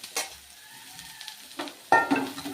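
Meal maker soya chunks being fried and stirred in a pan for a tomato curry, with a soft sizzle under clinks and scrapes of a spoon against the pan that grow louder near the end.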